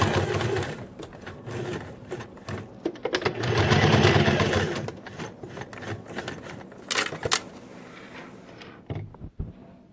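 A sewing machine stitches a handbag with a lining and outer fabric. Bursts of close, fairly loud mechanical whirring and chattering stop and start over about ten seconds, with a sustained run in the middle.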